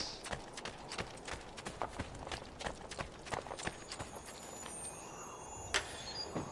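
Horse hooves gallop in Assassin's Creed II, a quiet, steady clip-clop of sharp, evenly spaced hoof strikes over a soft background.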